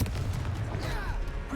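A Confringo fire spell is cast in Hogwarts Legacy: a short burst with a booming, explosive thump that fades quickly, with no voices heard.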